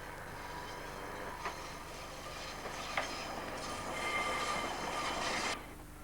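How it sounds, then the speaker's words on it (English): Passenger train from Combe to Blackpool rolling across a curved viaduct, its steady rumble and wheel noise filling the whole stretch, with brief squeal-like accents and a slight swell before it drops away near the end. "This is the train from Combe to Blackpool."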